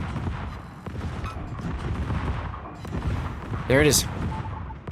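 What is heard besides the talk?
warship secondary guns firing in a naval video game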